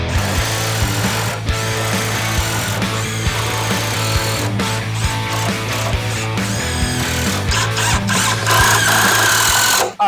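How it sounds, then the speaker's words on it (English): A hammer drill with a carbide-tipped bit bores into a concrete basement foundation through a 2x4 blocking, giving a loud, steady percussive grinding with a strong low hum that runs nearly unbroken throughout. "we will drill with our hammer drill through each of our blockings here"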